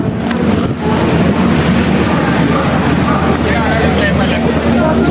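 A train passes through a busy railway station, producing a loud, continuous rumbling roar that fills the whole clip without letting up.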